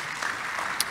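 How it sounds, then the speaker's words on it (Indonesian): A church congregation claps together in steady, dense applause, a brief wash of hand claps heard from within the room. "Boleh tepuk tangan sekali lagi buat Tuhan kita."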